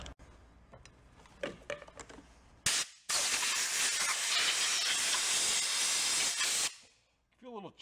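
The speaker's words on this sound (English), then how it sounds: "Compressed air. I'm gonna try start with that." A loud, continuous blast of compressed air hisses for about four seconds as it clears out a part on a 1990 bass boat. It is preceded by scattered clunks and a short puff and followed by quieter handling noise.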